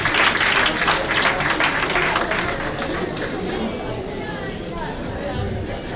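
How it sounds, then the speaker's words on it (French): An audience at a regional literature pageant evening applauds loudly, a thick, steady roar of clapping with crowd chatter, strongest at the start and gradually easing. "Monsieur Patrick Vendredi, que je vous prie d'applaudir."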